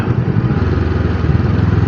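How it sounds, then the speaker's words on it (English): A motorcycle engine runs steadily up close with a dense low rumble and rapid firing pulse, holding a constant, loud level with no clear shift in pitch; engine and wind noise fill the whole stretch. "See, I downshifted here."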